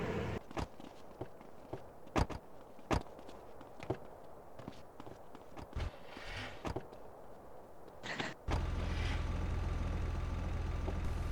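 Car engine in an Indonesian city roleplay video game, starting up near the end and running as a steady, loud low drone after a stretch of scattered footsteps and clicks.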